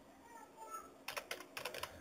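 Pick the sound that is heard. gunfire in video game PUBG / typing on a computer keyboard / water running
typing on a computer keyboard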